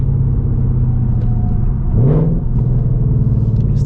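Ford Mustang GT S650 V8 with a cat delete and E85 tune idling loudly up close, a deep rumbling exhaust drone broken by one quick throttle blip that rises and settles back to idle.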